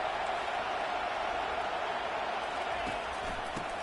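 A stadium crowd in a college football video game roars steadily, a dense, unbroken wash of cheering and noise at even loudness throughout.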